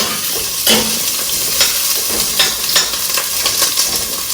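Three garlic cloves sauté in a little oil in a pan for pork chile verde, a loud, steady sizzle with bursts of crackle and occasional stirring scrapes, no voices.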